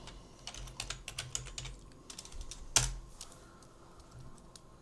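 Keys on a computer keyboard tap in quick, light bursts at a fairly quiet level, with short pauses between runs and one sharper clack near the middle, during a Houdini software tutorial with no talking.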